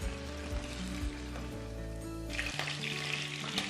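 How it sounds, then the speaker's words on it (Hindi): Half a kilo of chicken frying in half a cup of oil, a soft continuous sizzle with occasional stirring clinks and a brighter burst of spitting near the end, fairly quiet and with no talking. "चिकन को हमें फ्राई करना है इतनी देर कि इसके ऊपर हल्का हल्का कलर आ जाए।"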